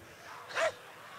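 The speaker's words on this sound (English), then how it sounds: "This dog got a name?" A dog gives one short, sharp bark at middle distance, standing out briefly from a quiet background.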